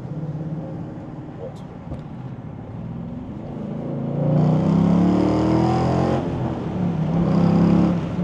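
A car accelerating along a straight road, heard from inside as the engine note climbs and holds a louder, rising drone, with people talking over it.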